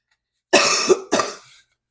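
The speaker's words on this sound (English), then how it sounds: "Sorry about the cough." Two harsh coughs close up from a person getting over a cold, the first longer and the second shorter, with silence before and after.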